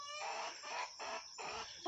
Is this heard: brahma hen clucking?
yes